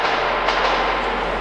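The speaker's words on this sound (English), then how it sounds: "Oh my god, it's an ethereal train." A ghostly train rumbles through a tunnel in the video game Metro 2033, a loud, continuous, close roar with faint rhythmic clatter and no speech.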